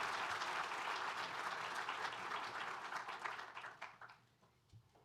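An audience at a conference stage event gives steady, dense applause to welcome a speaker, sustained for several seconds before thinning out and fading to a few scattered claps.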